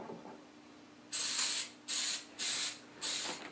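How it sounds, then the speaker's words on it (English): Four short hissing bursts of aerosol cooking spray onto a 9-inch baking pan, close up, with brief pauses between them. "I spray a 9-inch standard pan"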